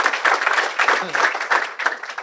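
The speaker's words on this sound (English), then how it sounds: "you need a strong round of applause, Terry" Audience applause at a tribute event, a crowd clapping in steady bursts that swell and dip over a couple of seconds, with a brief voice cutting through near the middle.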